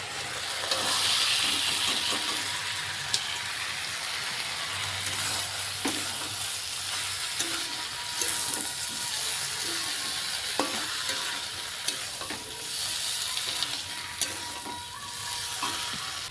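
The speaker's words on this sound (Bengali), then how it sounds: "মশলা কষা হয়ে গেছে, এরপর আমি আলুগুলো দিয়ে দেবো সব।" Potatoes fry in a spiced masala, making a continuous close sizzle and hiss broken by irregular scraping and clinking as a spatula stirs them around the pan.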